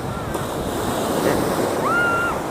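Surf washing onto the shore at Pasir Putih beach in Tuban, East Java, a steady loud roar of waves with wind buffeting the microphone and faint high tones over it.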